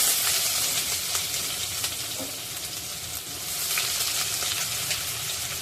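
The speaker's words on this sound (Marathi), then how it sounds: "कांदा चांगला गोल्डन ब्राऊन होईल इथपर्यंत परतायचा आहे" A medium-size onion fries in a pan with cumin seeds for an egg dish, a steady close sizzle with occasional stirring scrapes and no voices.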